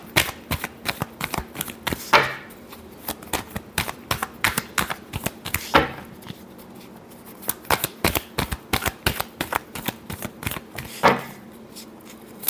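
Tarot cards shuffled by hand, a rapid run of crisp riffling clicks broken by several louder bridge-like flutters, fairly close and without talk.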